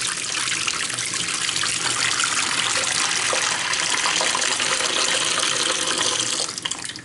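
Water pours steadily into a cooking pot of lamb shoulder, a continuous close splashing gush that holds even throughout and tapers slightly at the end.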